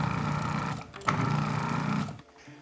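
Food processor pulsing flour, sugar, cinnamon and salt: a steady mechanical whir runs for about two seconds with a brief jolt midway, then winds down to quiet.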